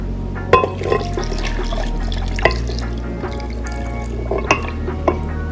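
A cup of milk pours into a blender with ice and sugar for a strawberry milkshake, a close trickling splash with scattered drips and small knocks over a low steady hum.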